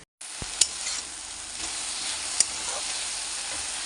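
Dried red chillies and urad dal fry in hot oil with a steady close sizzle, broken by a couple of sharp utensil clinks as they are stirred.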